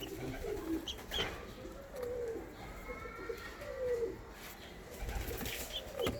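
Pigeons coo repeatedly nearby in soft, low rolling calls, with some rustling and faint wing sounds in the background.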